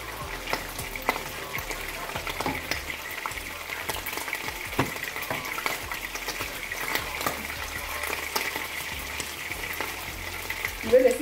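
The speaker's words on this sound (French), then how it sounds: "C'est maintenant que je vais mélanger mes légumes." Green vegetables fry in a pan while being stirred. A steady, close sizzle runs throughout with scattered scraping and clattering from the stirring.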